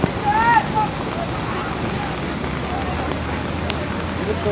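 Flood water surging through the parking area of the Balkhu vegetable market in Kathmandu, a constant loud rushing wash close to the microphone, with someone speaking over it and wind buffeting.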